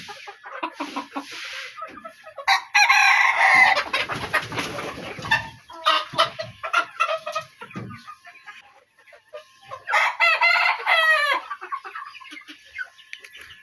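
Native deshi chickens on a farm cluck and squawk in bursts, with a loud flurry of calls early on and another cackling run later, close by and separated by quieter stretches.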